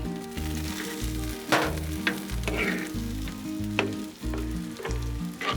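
Sausage gravy sizzles and bubbles on a hot Blackstone griddle, a loud continuous frying hiss with occasional stirring scrapes.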